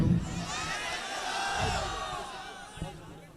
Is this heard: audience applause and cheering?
yes